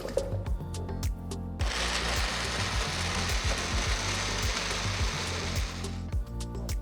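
An electric blender grinds soaked dry fruits and nuts into a paste, starting with a few clicks, then a loud, continuous whirring grind for about five seconds before it stops.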